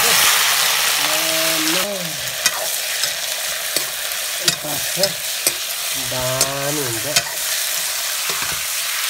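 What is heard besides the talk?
chicken meat frying and being stirred in pan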